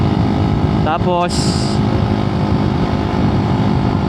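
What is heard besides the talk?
Honda Raider carburetor motorcycle engine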